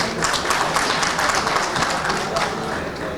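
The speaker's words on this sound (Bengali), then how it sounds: "সো আমি আমার ব্র্যান্ডের জন্য একটা তালি চাচ্ছি আপনাদের সবার কাছে।" A crowd applauds a brand in a clapping burst that sounds broad and dense and holds steady at moderate loudness for the whole stretch, with some speech-like murmur mixed in.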